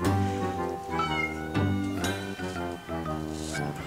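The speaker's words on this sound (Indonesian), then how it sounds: "Oke, jadi kita mulai nyuapin makanan kucing ke dalam mulutnya." A cat being hand-fed food meows repeatedly and insistently up close, a run of short whining cries with brief gaps between them.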